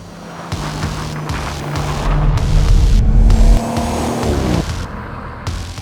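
Audi RS4 Avant drifting sideways across a frozen ice lake in minus 21 degree cold, its engine loud and close as the revs climb and hold in a long steady pull, then ease off near the end.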